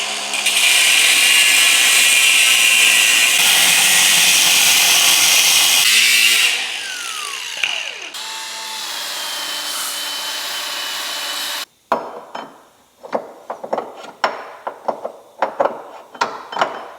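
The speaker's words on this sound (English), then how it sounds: "let's head over to my lathe, or my mill these guys out" A milling machine cuts down car parts for an AWD FK8 Type R with a loud, sustained whine that shifts in pitch, then gives way to a series of sharp clanks and taps.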